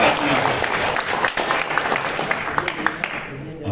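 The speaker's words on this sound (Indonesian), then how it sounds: "Tepuk tangan untuk kita" An audience clapping in a dense, loud burst right up close, with crowd noise mixed in, easing off slightly toward the end.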